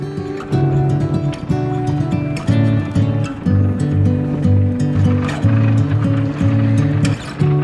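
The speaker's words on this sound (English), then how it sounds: "now the ferry decided to come out" A huge passenger ferry departing a Norwegian harbour near Stavanger, its engines producing a loud, steady low throb with layered humming tones and water rush throughout, close by and without speech.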